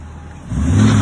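A pickup truck towing a boat trailer pulls forward, its engine rising from a low idle into a louder, revving push halfway through, close by and without talk.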